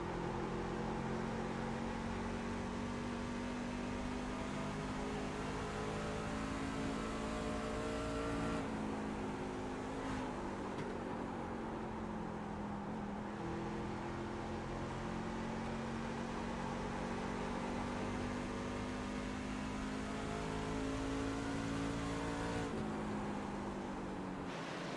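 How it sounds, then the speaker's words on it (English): A race truck engine in a sim racing game of a truck championship at Phoenix roars continuously at high revs for the whole stretch, with brief pitch dips at shifts or corners and no talk. "Cody Ditto really running that truck pretty hard."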